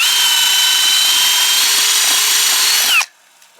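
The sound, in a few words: power drill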